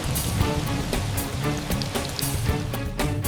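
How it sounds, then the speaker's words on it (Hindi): A strong wind storm with light rain sweeps over a village, a steady broadband rush of wind and patter filling the whole stretch without pause, loud and close. "अचानक गांव में तेज आंधी और हल्की बारिश आई"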